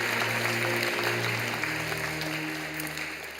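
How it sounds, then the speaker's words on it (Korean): A church congregation at a Sunday service claps to welcome newcomers: sustained, fairly loud applause over a low room hum that tapers off slightly toward the end. "여러분 크게 박수로 환영하시죠."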